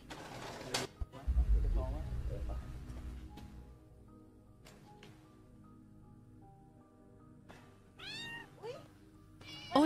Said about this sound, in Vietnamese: ở đây có mèo nè